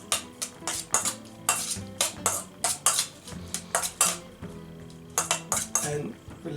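A utensil clinks and scrapes rhythmically against a bowl while tzatziki is mixed with red wine vinegar and salt. The strokes are quick and repeated, close and distinct.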